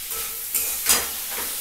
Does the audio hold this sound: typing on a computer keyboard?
no